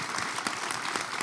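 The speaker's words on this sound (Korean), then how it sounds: "기왕에 박수 치실 때 아주 그냥 뜨겁게 쳐주시기 바랍니다" An audience at a digital economy forum with a presidential candidate claps steadily, a brief, moderately loud burst of many hands with no voices over it.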